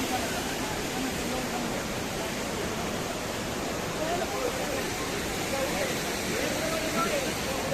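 At Elephant Falls in Meghalaya, water pours down the waterfall in a steady, broad, close rush that stays constant throughout, with no clear voices above it.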